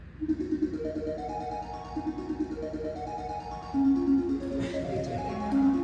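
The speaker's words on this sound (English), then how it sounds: "It's okay, that's my phone." A mobile phone rings during a panel discussion, a repeating melodic ringtone of rising and falling note runs that cycles several times, fairly close and clear over a quiet room.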